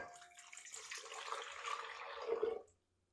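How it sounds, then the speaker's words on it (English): Two cups of water pour steadily into a mixing bowl already holding yeast, for sandwich bread dough, with a rushing splash that grows slightly louder before stopping abruptly. "We are going to put in our 2 cups of water."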